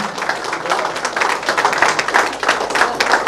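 Dense, steady applause from a crowd welcoming the SP at a public function, loud and continuous with many overlapping claps throughout.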